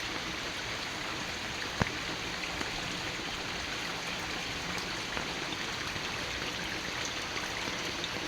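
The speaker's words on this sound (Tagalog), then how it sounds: "Tinangay na ng malakas na agos ng tubig." Water rushes continuously in a steady, broadband roar, like a strong stream flowing close by, with no voices and barely any change throughout.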